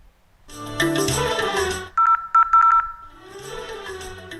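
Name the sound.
telephone ringing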